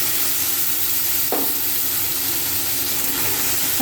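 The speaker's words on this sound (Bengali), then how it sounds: "সমস্তটাকে আমি কিছুক্ষণ ধরে কষিয়ে নেব।" Ginger, onion and garlic paste with spices and spice water sizzles and hisses steadily in a pan for a shol fish curry, a continuous close frying noise with a brief stir scrape partway through.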